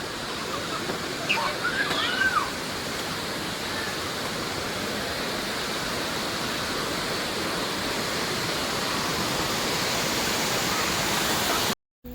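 A large waterfall roars as a steady, dense wash of rushing water, loud and unbroken for the whole stretch before cutting off abruptly at the end.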